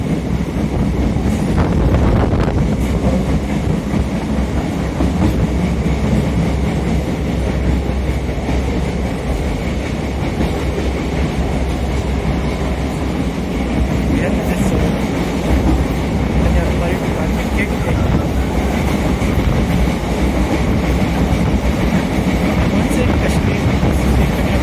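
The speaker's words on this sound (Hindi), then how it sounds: "ट्रेन थोड़ी सी स्पीड पकड़ी" A passenger train on the line to Bangalore airport rumbles steadily along the rails as it gathers a little speed, with constant loud wheel and carriage noise, wind buffeting and occasional faint clicks over the track.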